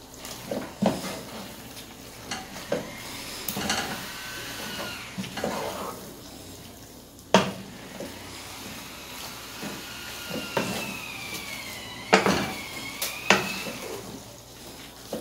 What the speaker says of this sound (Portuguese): Aí já vou mexer. Pra já ir incorporando o sabor no franguinho.